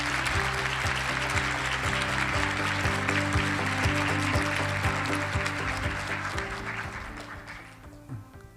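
Applause from an audience at an international judicial conference as the president is welcomed to the stage, steady clapping over a loud background of stage music, fading out at the end.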